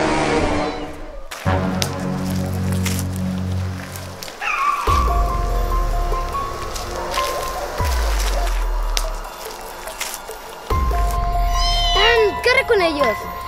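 A kitten meows repeatedly, thin rising cries heard close between other sounds, with people talking in Spanish over parts of the scene.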